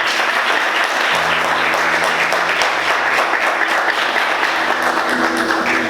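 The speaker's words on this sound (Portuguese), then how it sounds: "Vamos aplaudir Jesus bem forte." A church congregation applauds Jesus during a sermon by a pastor, a loud, continuous roar of many people clapping that holds steady from start to finish, joined by a faint low hum partway through.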